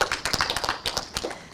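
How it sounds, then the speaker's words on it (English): An audience at the official launch of a university's Faculty of Computing and Informatics building claps briefly for former university leaders, with sharp, uneven hand claps close by for under two seconds. "Some clap for them."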